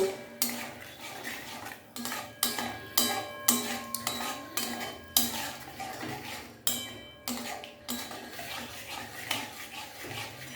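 Brinjal being mixed in a pan before the gas is lit, with clattering scrapes and knocks of a spoon against metal in uneven bursts, close by and without sizzling.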